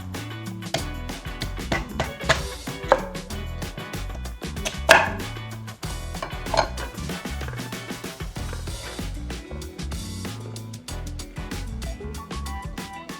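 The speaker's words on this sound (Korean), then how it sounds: "비트를 브러쉬로 깨끗하게 씻어왔으니까 썰기만 해서 찜기에 넣어줄 거예요" A knife slices through hard, washed raw beets, skin still on, on a cutting board in a kitchen before steaming; steady close chopping knocks repeat quickly and unevenly, with no talking over them.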